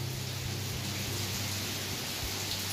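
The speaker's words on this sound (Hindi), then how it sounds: "इस टाइम पे बारिश स्टार्ट हो चुकी है" Rain falling on a farm, a steady, dense hiss of drops with a low rumbling undertone that stays continuous throughout, with no voices.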